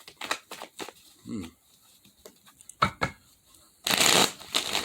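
Cards being shuffled up close, several quick riffling bursts separated by short pauses, the last one loudest and longest.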